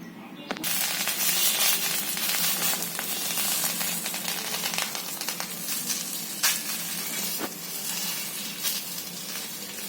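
Bottle gourd thalipeeth flatbread dough pressed onto a hot pan, giving a steady, dense hiss of frying that runs the whole time with a few small clicks and taps.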